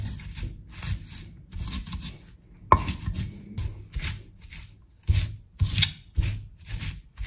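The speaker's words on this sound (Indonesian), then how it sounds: "Lalu kita gunakan cobek ya. Jadi kita tekan-tekan ini, jadi ini tidak digiling ya, tapi kita tekan-tekan supaya bumbunya itu lebih meresap." Repeated thuds and crunches of spices being pressed in a stone mortar (cobek) come in uneven bursts, close and moderately loud, with a single sharper knock partway through.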